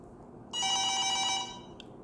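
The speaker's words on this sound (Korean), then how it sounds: "아 전화가 왔네요" A telephone rings once in a short electronic ringtone burst lasting about a second, fairly loud over a quiet room background, with no speech.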